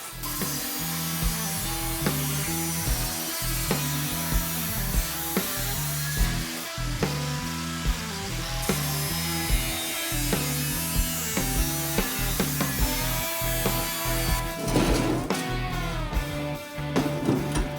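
A VW Bug body is trimmed with a power tool, giving a continuous buzzing, grinding drone with rhythmic pulses and scraping bursts, steady and close, with no voices.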